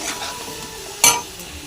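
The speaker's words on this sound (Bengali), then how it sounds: "আর হচ্ছে এই যে আলু লাল লাল করে ভেজে নিচ্ছি, লাল লাল করে ভেজে নিতে হবে।" Potatoes fry in a pan for a vegetarian soybean curry, with a soft steady sizzle and one sharp metallic clink of a utensil partway through.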